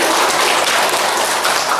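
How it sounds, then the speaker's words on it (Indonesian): Brief, dense burst of applause from a congregation for a speaker named Pak Edi at a Confucian worship service in Solo, steady loud clapping with no talk. "tepuk tangan Pak Edi kita semua"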